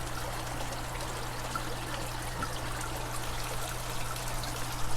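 Water streams steadily into an aquaponics tank where water spinach grows and an air stone aerates, a continuous trickling wash with a low hum underneath.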